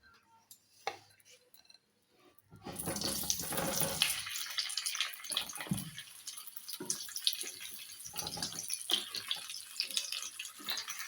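Potatoes go into hot oil in a pan for aloo dum with matar: after a near-silent start, a loud, close sizzle bursts in and keeps crackling and hissing steadily to the end.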